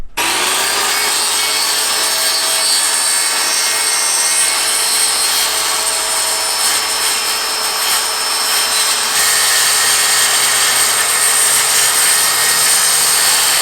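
Power saw ripping through a panel for a DIY Toyota Tacoma truck camper build, a loud continuous whining cut held steady for over ten seconds with no talking.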